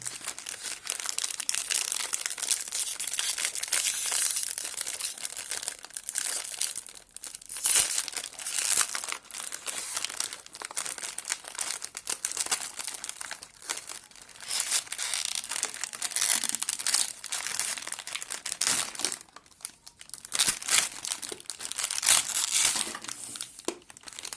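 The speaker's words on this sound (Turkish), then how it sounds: "Evet paketi açalım." Crinkling plastic wrapper of a Hellema Crunchies chocolate caramel biscuit pack being torn open, a close, steady rustle and crackle continuing for the whole stretch with no talk.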